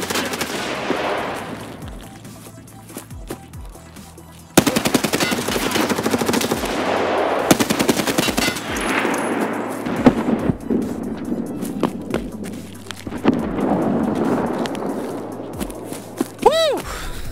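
Loud bursts of automatic gunfire in an Escape from Tarkov PvP firefight, rapid rattling volleys broken by single sharp shots and short pauses, with faint footsteps between the exchanges.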